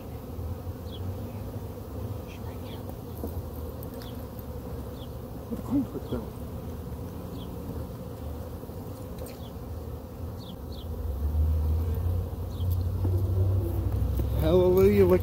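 Honeybee swarm buzzing during a hive cutout removal, a steady dense hum with scattered individual bees zipping close past, a low rumble swelling near the end and faint voices now and then.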